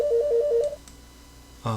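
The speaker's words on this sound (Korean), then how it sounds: "전화가 와가지고" A phone rings with an incoming call during a recorded lecture, a steady repeating electronic ringtone pattern for under a second, then quiet room tone, then a brief louder tonal burst near the end.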